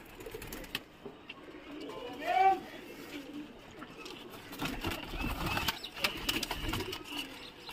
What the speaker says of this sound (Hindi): ये देखो ये सब उड़ाऊ कबूतर हैं हमारे